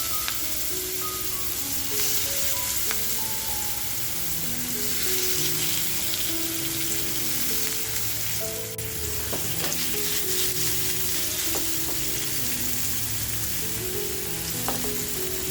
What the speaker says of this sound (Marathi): आता जी मच्छी आपण मॅरिनेट केली ती मच्छी टाकून घेऊया